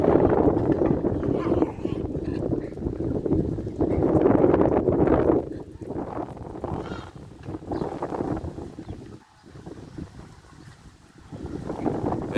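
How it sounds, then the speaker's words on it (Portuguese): Strong wind roars past outdoors near someone's home, a deep buffeting rumble that swells and drops in gusts, with short lulls between the heavier blasts. "O vento que tá passando aí, ó"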